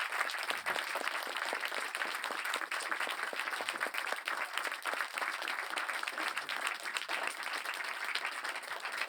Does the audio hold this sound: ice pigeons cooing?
no